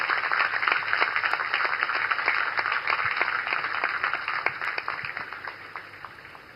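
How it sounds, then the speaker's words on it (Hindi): An audience gives sustained applause welcoming PM Narendra Modi at a naval event in Mumbai, a dense roar of many hands clapping that holds steady and then slowly thins toward the end. "जोरदार तालियों के साथ उनका स्वागत करें"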